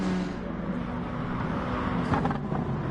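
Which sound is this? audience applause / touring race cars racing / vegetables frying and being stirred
touring race cars racing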